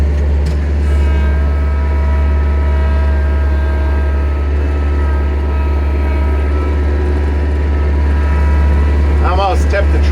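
A heavy tractor engine drones at a steady low pitch throughout, loud and close, with a faint voice briefly near the end.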